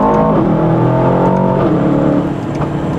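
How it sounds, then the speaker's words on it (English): Aston Martin DBX 707 SUV with its V8 engine revving hard, a loud close roar with rising, shifting harmonics that sweep up and settle, no voices over it. "Power on this car is intoxicating, and the sound is too."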